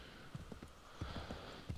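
Horse hooves clip-clopping in the video game Assassin's Creed III, an uneven run of soft, faint hoof thuds over a steady background hum.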